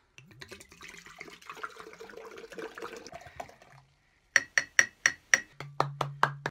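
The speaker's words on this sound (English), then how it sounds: "Add the vodka." Vodka poured into a glass for a vodka sunrise, a soft trickling splash for a few seconds, then a pause and a series of sharp, evenly spaced clinks and knocks close by.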